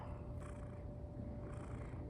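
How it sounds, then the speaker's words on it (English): A domestic cat purrs in a soft, steady, continuous rumble, faint and close, with no voices over it. "Are you purring?"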